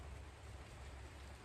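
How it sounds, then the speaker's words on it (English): Steady rain falls outside, heard from indoors as a soft, continuous hiss with a low rumble, quiet and unbroken throughout. "I don't know if you can hear the rain outside right now."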